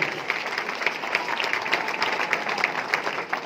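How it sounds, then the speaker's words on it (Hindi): Loud, sustained audience applause at a gathering, dense steady clapping that fills the whole stretch without a break. "एक बार मैं चाहूंगा उनके लिए जोरदार तालियां हो जाए।"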